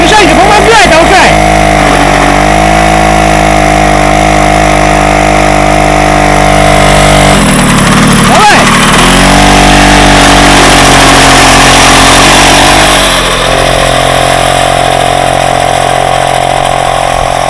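A Krot motor cultivator rigged for winter runs its small engine steadily and loudly throughout, with a strained dip in pitch midway and several voices talking over it.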